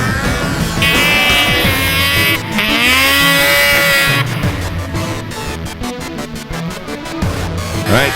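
A Ski-Doo snowmobile engine revs hard climbing a hill at a Jackson Hole hill climb event, loud two-stroke wailing that rises and falls in pitch with rapid throttle bursts, near and dominant.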